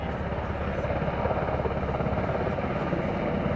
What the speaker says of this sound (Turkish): jandarma helikopteri bölgeyi terk etmektedir